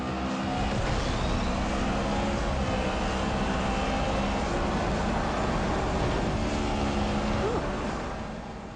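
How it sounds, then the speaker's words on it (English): A racing car engine roars steadily from Need for Speed played on an iPad, a loud continuous drone with shifting pitch and no pauses throughout. "So that's Need for Speed running on the iPad"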